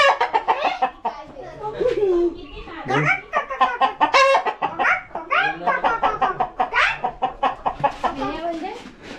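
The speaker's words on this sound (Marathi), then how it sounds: "केवढा कोंबडा आहे बघा भारी" A large village rooster clucks and calls up close while someone talks over it nearly throughout, with bursts of laughter mixed in.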